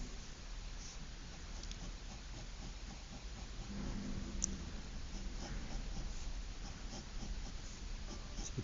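Pencil sketching a smooth curve by hand on paper, a soft continuous scratching that runs quietly over steady background hiss.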